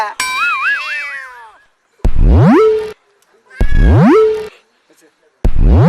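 A cat meows loudly and close in a long, wavering opening cry, followed by three sharp rising yowls at regular intervals, each separated by brief silence.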